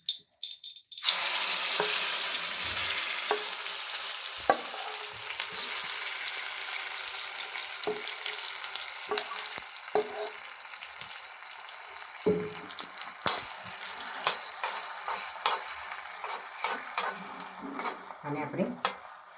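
Surti papdi bharthu hits hot oil after a moment of quiet, then sizzles steadily on a medium gas flame while a spoon scrapes and clinks against the pan.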